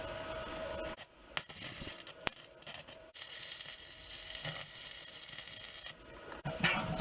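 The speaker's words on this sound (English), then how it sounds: "And we'll get this welded." An arc welder hisses and sizzles steadily on the steel of a wood burning stove, a continuous close crackling buzz broken by a few brief pauses and sharp clicks.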